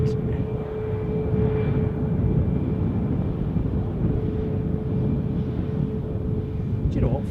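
A two-year-old Boeing 737 Max 8 taxis at Edinburgh airport, giving a steady, broad engine rumble with a faint whine held at an even level throughout.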